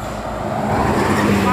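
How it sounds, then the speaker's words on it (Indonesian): Tour bus passing close by on a road, a loud engine roar and tyre rumble swelling steadily over the short span as it approaches. "Melintas selanjutnya bus pariwisata"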